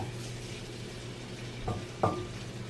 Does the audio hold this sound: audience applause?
no